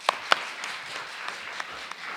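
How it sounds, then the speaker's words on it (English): Audience applause at a Paterson, New Jersey city employee recognition event, a quiet, thin patter with a few sharper individual claps standing out over a steady diffuse background. "Let's have a round of applause for her."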